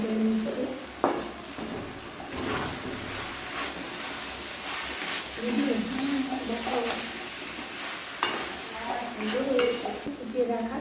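Chicken filling with garam masala and cumin powder is stirred in a pan, giving steady scraping and clinks of a spoon against metal over a soft sizzle, with a person talking throughout.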